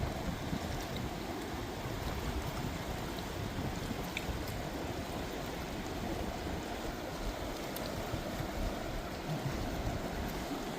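Water of the Indus River near Leh rushes steadily with a dense, even broadband wash that stays close and constant throughout, with no voices.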